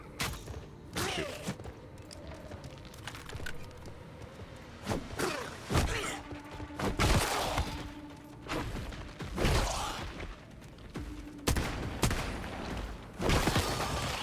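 Gunfire in the video game Once Human: bursts of sharp shots and impacts scattered through a busy game soundscape with thuds and clatter, moderately loud, no talking.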